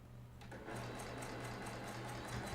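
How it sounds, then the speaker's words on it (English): A sewing machine runs continuously, stitching a quarter-inch seam down a pinned side of quilt blocks, a faint, even mechanical whir with rapid rhythmic ticking and no talk. "I'm going to sew 1/4 inch down the side where I pinned"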